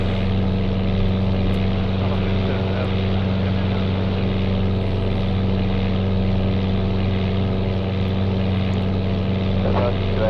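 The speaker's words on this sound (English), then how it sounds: "The engine sound put me to sleep all the time." A Piper PA-23 twin-engine plane flies in the Flight Simulator 95 video game, its engines giving a loud, monotonous humming drone that holds unchanged for the whole stretch.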